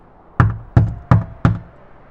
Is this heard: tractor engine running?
no